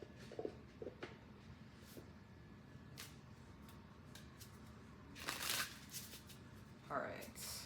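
A deck of Wild Reflection tarot cards being shuffled, soft riffling and sliding bursts with scattered clicks, quiet and close, with a louder flurry of card movement toward the end.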